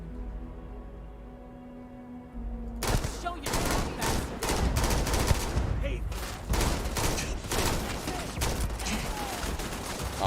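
A Beowulf rifle fires in Starfield, first a quiet hum, then rapid, dense bursts of loud, sharp gunshots that keep coming almost without pause for several seconds, close and punchy.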